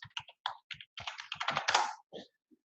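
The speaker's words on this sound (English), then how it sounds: "I'm just going to type in a travel company I know." Keys clatter on a computer keyboard in a quick, uneven burst of close, crisp taps, speeding into a dense run before trailing off into a few final strokes, with no voice over it.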